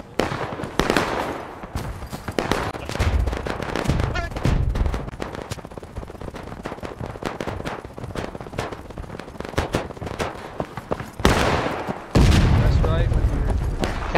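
Musket volleys ring out in the Blue and Gray Line Battle video game, a dense, loud crackling fusillade of overlapping shots that runs throughout, with heavier booming bursts near the end.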